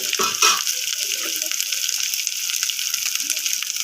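Tomatoes fry with a spoonful of garam masala in a pan, a loud, close, continuous hiss and sizzle with a brief stirring clatter at the start and a faint voice underneath.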